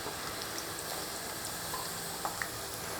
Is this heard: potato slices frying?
yes